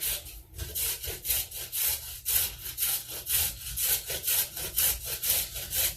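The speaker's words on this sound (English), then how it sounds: "we're going to shred some carrot into that. Handy dandy grater. I like to set it right in the bowl. Just grate away." A carrot being shredded on a hand grater set right in a bowl, steady rhythmic rasping strokes repeating about three times per second, close and fairly loud with no talking.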